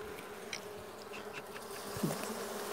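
Honeybees buzz around a brood frame in a weak hive during an inspection, a continuous close-up hum with individual bees whining past, quiet and with no talk.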